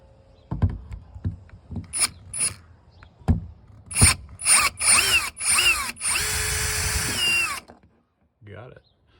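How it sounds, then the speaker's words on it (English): A cordless power drill backs a screw out of a Wyze flood light, with short stop-start bursts of whirring, then a longer steady run close by, amid handling knocks and a brief voice. "I'm gonna go ahead and just use my drill and take that off"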